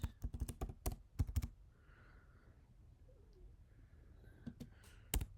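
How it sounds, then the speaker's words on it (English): Quick clicking keystrokes on a computer keyboard while entering an IP address into network configuration, in a burst at the start and a few scattered taps at the end, close and quiet. "Now you type address, IP address."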